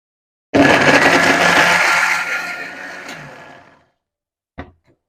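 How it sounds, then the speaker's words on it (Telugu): Electric mixer grinder blending cooled roasted brinjal into chutney, a loud whirring burst of about three seconds that winds down, followed by a short clatter; no talking. "మిక్సీకి వేసేద్దాం చట్నీ."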